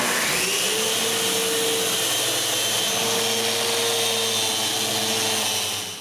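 A power sander works the wood of a bathroom vanity in a workshop, a steady close motor whine with a droning hum that holds unbroken for several seconds before tapering at the end.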